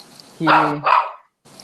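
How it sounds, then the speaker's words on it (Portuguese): An excited dog barks at a doll, giving a loud close two-part bark followed by a brief pause and a fainter sound at the end. "meu cachorro tá desesperado com a boneca"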